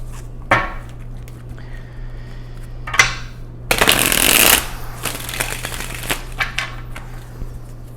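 Tarot cards handled during a reading, with a few sharp single card snaps followed by a loud riffle shuffle lasting about a second, then more flicks and soft card handling nearby.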